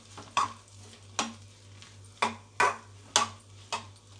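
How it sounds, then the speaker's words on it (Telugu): Fish roe frying slowly in a pan, heard as six or so sharp scraping stirs at irregular intervals over a faint sizzle and a steady low hum, no voices. "ఇప్పుడైతే బాగా ఇలా నెమ్మదిగా ఫ్రై చేసుకోవాలి."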